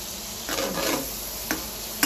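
Chopped onion hits a hot pan of golden-browned garlic for a creamy shrimp dish, giving a soft steady sizzle with a couple of brief scraping stirs, close and alone.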